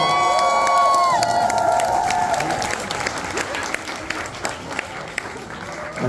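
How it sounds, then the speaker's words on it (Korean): Concert audience applauding and cheering at a live show in Seoul, a dense crowd clapping that swells after a brief musical tone and continues steadily with scattered shouts. "뒤에 박수 한번 부탁드릴게요."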